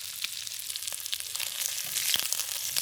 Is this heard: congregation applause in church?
no